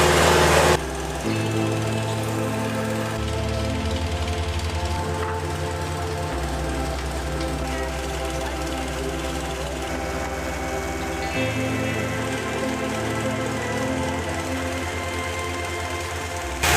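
A cement mixer drum turns while a concrete pump feeds the mix through a hopper and a long hose at a farmhouse addition build site. Steady, loud mechanical droning and grinding runs throughout with no breaks.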